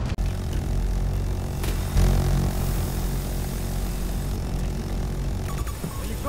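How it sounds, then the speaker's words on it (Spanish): An enemy helicopter flying in the distance in the video game Battlefield 2042: a steady, droning engine and rotor rumble runs throughout at moderate level, joined by a few brief sharp game sounds near the end, with no talking. "Helicóptero enemigo en mi marca, a lo lejos."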